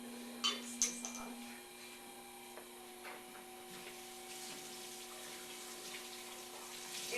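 Water runs from a tap while clay is rinsed off, a faint steady hiss with a few small clinks near the start.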